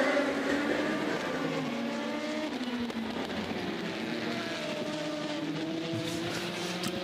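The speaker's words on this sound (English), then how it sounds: "Pachito Lopez bringing the 7 into pits as Norman Nato exits pit lane." A race car at Le Mans pulls out of the pit lane, its engine note rising and shifting in a continuous roar amid distant track noise.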